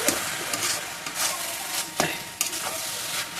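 A pot of Bengali banana blossom curry, finished with ghee and a little sugar, is stirred with a spoon, making repeated scraping strokes against the pot over a constant low sizzle, close and moderately loud.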